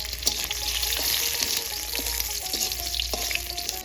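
Garlic, marigold leaves and gotu kola (thankuni) leaves fry in hot oil for a Bengali sukto, giving a loud, steady sizzle with occasional stirring scrapes and clicks throughout.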